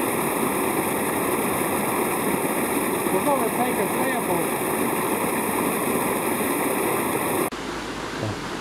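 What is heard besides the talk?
water flowing out of a discharge monitor tank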